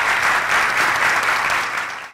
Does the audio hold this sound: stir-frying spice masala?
no